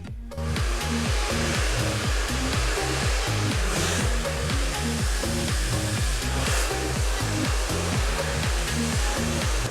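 A hair dryer blowing steadily on a hair strand during a blow-dry styling session, a loud continuous whooshing roar with a pulsing motor hum and no talk.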